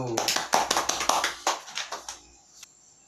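A small classroom group claps for a presenting team in a brisk run of about a dozen sharp, close handclaps that taper off after a couple of seconds.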